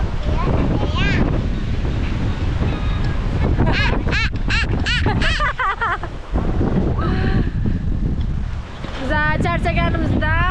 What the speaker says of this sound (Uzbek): Shamol.